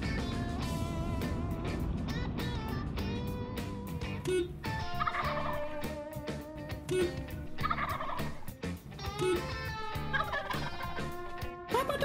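Wild turkeys in Texas gobble repeatedly outdoors, loud rattling calls that come in several bursts and overlap across the stretch, with no talking.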